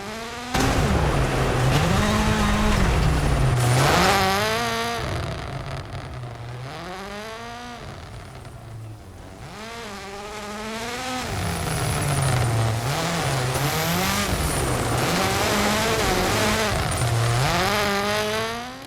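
A rally car engine in the video game EA Sports WRC roars loud and close, revving up through gears with pitch rising and dropping at each shift, repeated surges of acceleration.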